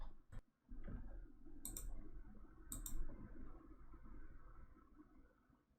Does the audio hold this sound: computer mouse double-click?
yes